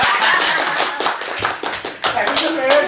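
Audience clapping for young women stepping forward at an evening talk show, uneven bursts of handclaps mixed with chatter and a little laughter, close and lively.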